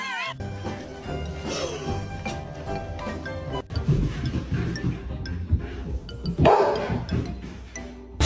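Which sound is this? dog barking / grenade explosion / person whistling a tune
dog barking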